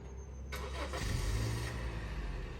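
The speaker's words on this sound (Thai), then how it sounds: "รถสตาร์ทแล้วนะครับ สั่งสตาร์ท ได้นะครับ" A 2014 Honda City, fitted with a remote start and push-button start, has its engine started by remote: a short crank, then the engine catches into a steady, fairly close idle with no talk.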